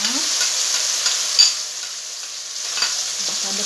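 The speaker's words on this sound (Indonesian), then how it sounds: "Lalu kita akan menumis semuanya." Spice paste for gado-gado is stir-fried in hot oil, a steady broad hiss of frying under a couple of faint spoon scrapes, close and fairly even throughout.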